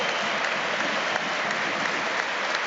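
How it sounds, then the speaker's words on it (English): Celtic supporters applaud inside a packed stadium, a dense, continuous wash of clapping that holds steady and loud for a few seconds. "The applause from the Celtic supporters"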